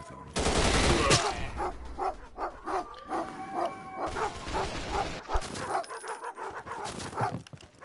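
Dogs barking in the VR video game Alvo, a run of repeated sharp barks at a steady rhythm after a loud opening burst, mid-distance and moderately loud.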